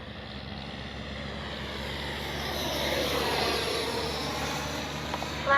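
An Arrows RC F-15 model with twin 64mm electric ducted fans flying overhead, a steady whooshing whine that swells and fades as it passes, with no talk.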